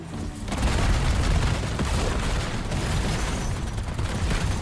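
Rapid gunfire from a 1911 pistol with explosive rounds in Black Ops 7 Zombies, a dense continuous fusillade of booming shots, loud and unbroken, with no talk.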